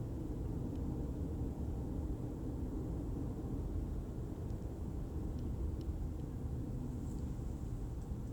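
Quiet, steady low rumble inside a car cruising on a summer drive through Washington State mountain passes, an even road and engine hum with no voices.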